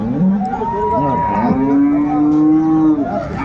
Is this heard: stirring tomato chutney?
no